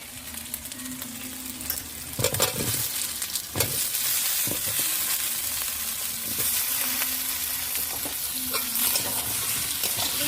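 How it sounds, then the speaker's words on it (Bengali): Potatoes and tomatoes sizzle steadily in a pan for a pangas fish curry, with several scraping stirs of a spatula breaking through the constant close frying hiss. "দিয়ে একটু নেড়ে দেব বন্ধুরা এবারে আলু আর টমেটোটা দিয়ে দেবো"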